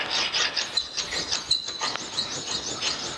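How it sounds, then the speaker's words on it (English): Metal control handle for a K&T 3H milling machine rubbed back and forth on a precision ground flat stone, a steady close gritty rasping with rhythmic strokes and no talk. "gonna finish this up on a precision ground flat stone"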